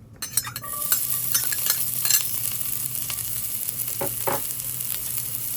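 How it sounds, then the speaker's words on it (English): Onion and peppers sauté in very hot olive oil, a steady close sizzle running throughout with occasional spoon scrapes and stirring clatter, no voices. "we're gonna start sauteing the vegetables until they start looking translucent"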